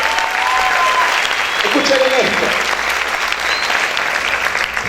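A church congregation claps loudly and steadily throughout, a dense sustained wash of applause with a brief voice breaking through midway.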